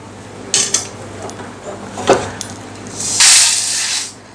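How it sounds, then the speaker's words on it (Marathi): Roasted jowar (sorghum) for a chakli bhajani flour mix is tipped from the pan into another vessel: a few short scraping clinks, then a steady, hissing rush of pouring grain near the end. There is no talk. "आता ही ज्वारी मी दुसऱ्या एका भांड्यामध्ये"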